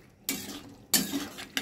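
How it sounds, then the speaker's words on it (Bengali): Ghugni being stirred and sautéed in a pan, with a few distinct scraping strokes of a spoon against metal over a soft background, close and without talk. "এটা ভালোভাবে কষিয়ে তারপরে এর মধ্যে জল ঢেলে আবার সিদ্ধ করতে বসাবো।"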